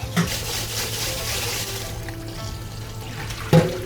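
Food is rinsed under a running kitchen tap while preparing a Japanese meal, a steady close rush of water with a soft clunk near the end.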